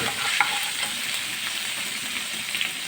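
Steady sizzling of a chicken paratha filling with gram flour fills the clip, with soft scraping as a spoon stirs the pan; close and continuous, no talking.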